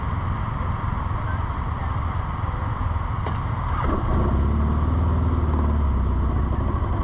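A 2015 Can-Am Spyder RS-S three-wheeler with an Akrapovic exhaust idles steadily, then its engine note rises and deepens around the midpoint as it pulls away, loud and close, with no talking.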